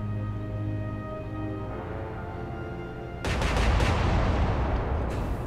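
Naval battleship front gun batteries fire in the Atlantic Fleet video game, a sudden loud broadband blast erupting over a steady humming engine drone and rumbling on for a couple of seconds.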